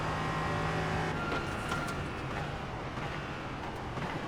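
Race car engine in the iRacing sim at Laguna Seca, with traction control cutting in, a steady rough drone holding fairly constant with faint stuttering interruptions, moderately loud and heard without talk.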